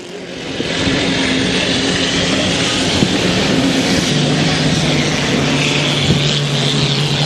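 A 2.5-litre class racing hydroplane engine roars past after the turn at a Valleyfield race, a loud continuous high-revving drone with a shifting pitch, close and steady, with no voices over it.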